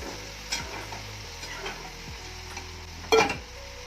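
Okra with tomatoes and green chillies frying in hot oil, a soft continuous sizzle with a few quiet stirring scrapes and one sharper clatter near the end.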